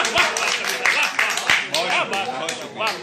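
An audience at a ghazal gathering in Banaras claps in scattered bursts, mixed with loud overlapping voices and cheering close by.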